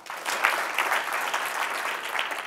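A group of listeners in a team-building session claps once more on cue, a full, steady round of many hands sustained evenly for a couple of seconds without speech.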